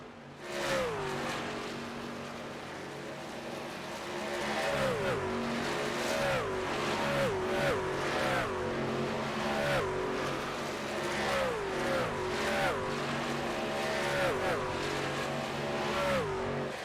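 Racing trucks at Chicagoland Speedway roar around the track with repeated rising and falling engine notes as they pass one after another, a loud, continuous, rhythmic drone of lap traffic.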